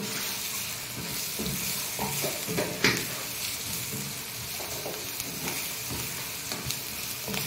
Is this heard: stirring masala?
yes